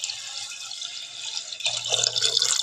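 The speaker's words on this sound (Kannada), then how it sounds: "ಈಗ ಅದು 1 ಗ್ಲಾಸ್ ಅಕ್ಕಿಗೆ 2 ಗ್ಲಾಸ್ ನೀರು ಹಾಕ್ತಾ ಇದ್ದೀನಿ." Water is poured from a glass onto rice in a pot while making dhaba-style egg biryani, two glasses for one of rice. A steady, close liquid stream grows louder and splashier toward the end, with no talk.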